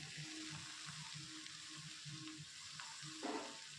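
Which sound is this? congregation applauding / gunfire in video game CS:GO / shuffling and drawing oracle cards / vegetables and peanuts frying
vegetables and peanuts frying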